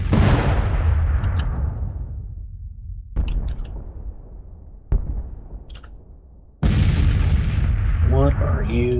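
Heavy artillery booms in a Civil War battle game, with three or four big blasts spaced a couple of seconds apart. Each strikes loud and close, then rolls off into a long decaying rumble, and some voice sounds come through between them.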